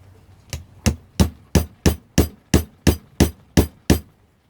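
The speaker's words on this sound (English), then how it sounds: "So I have to be very careful when I hammer them" Hammer blows on material for orchid cachepots inside a shed on a rainy day: eleven sharp, evenly spaced strikes about a third of a second apart, loud and close, with quiet gaps between them.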